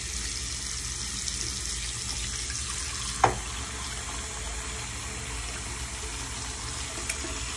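Tap water runs steadily while paint brushes are rinsed at a sink, a constant broadband wash with one brief clack partway through and no talking.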